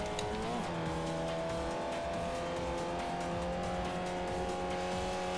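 A race car engine in Forza Motorsport 4 on Xbox 360 is held high at about 6000 rpm in third gear, a steady, loud, buzzing whine that holds its pitch throughout with a faint tire screech early on.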